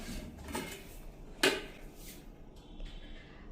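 A utensil stirs and flips food in a cooking pan, giving faint, steady scraping and shuffling with one sharp clack about halfway through.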